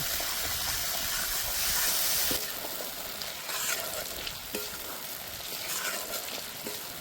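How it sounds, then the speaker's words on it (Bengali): Turmeric powder and other spices stir-fried in hot oil for a vegetarian soybean curry, a steady loud sizzle and hiss with scraping spatula strokes, close up and without talk. "হলুদ গুঁড়ো, এবার ভালো করে কষে নেব।"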